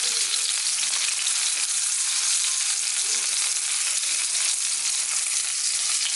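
Steak searing in a hot pan gives a steady, loud, close sizzle and crackle that runs unbroken throughout, with no voices over it.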